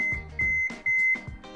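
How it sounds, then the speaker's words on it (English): A kitchen timer is set while glazed carrots go into a 400-degree oven, giving four short, clear electronic beeps with clicks and handling noise between them. "I'm gonna get that timer going."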